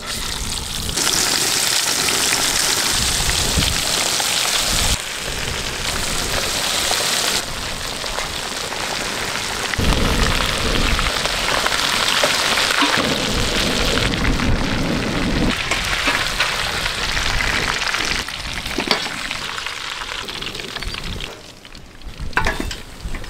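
Pieces of chicken, spiced Kerala-style, fry in hot oil with a loud, continuous sizzle and crackle throughout, with brief shifts in intensity as the pieces are stirred or moved.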